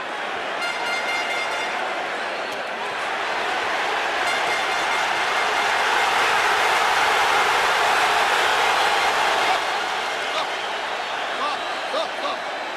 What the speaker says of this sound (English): And a crescendo of roars there from this crowd.